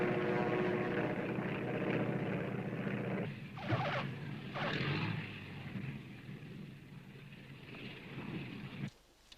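A propeller airplane drones steadily nearby, a loud continuous engine hum that fades and shifts in the middle and drops out abruptly at the end.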